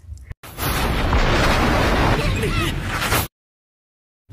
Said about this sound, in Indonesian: dampaknya rumah lu jadi meledak